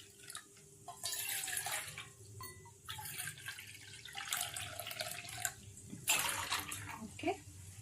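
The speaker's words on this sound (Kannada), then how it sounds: "2 ಕಪ್ ಅಷ್ಟು ವಾಟರ್ ಹಾಕೊಳ್ಳೋಣ" About two cups of water poured into a pan on a low gas flame while making sajjige, a semolina sweet, arriving in several close, splashing bursts with short pauses between them.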